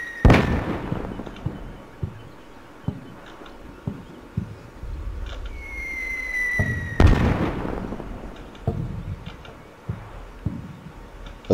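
Battalion mortar fire in the Combat Mission Shock Force war game, a series of dull booming impacts spread through the clip, several distant and one much louder nearby blast, over a low rumbling battlefield background.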